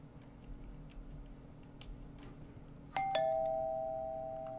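A doorbell rings once in a video game, a bright two-tone chime that strikes sharply and then rings out slowly over a quiet, faintly ticking room.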